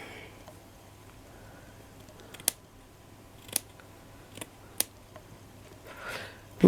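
Scissors snipping through paper flower pieces in a quiet room, a handful of sharp, close, irregularly spaced cuts with soft handling noise between them.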